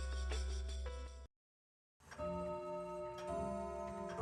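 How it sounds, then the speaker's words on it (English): A large clock in a mansion lobby in the visual novel Umineko strikes midnight, with a loud resonant chime, a brief pause of silence, then another ringing strike that decays slowly. "Then the sound of the bell rang out, proclaiming that midnight had arrived."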